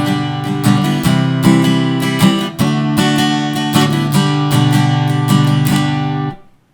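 Guitar strummed with a thin standard plastic pick, loud and close, a steady run of bright picked chords with crisp attacks that ends abruptly.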